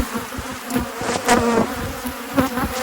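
Close, continuous buzzing comes from many honey bees swarming around an open hive during an inspection, with pitches rising and falling as individual bees pass near.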